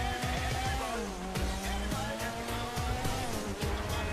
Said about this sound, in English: it sounds like a sport car